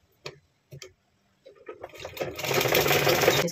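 Sewing machine stitching blouse fabric: a couple of short isolated bursts, then the motor starts and runs in a steady, loud whirring stitch for the last second and a half, close up and alone.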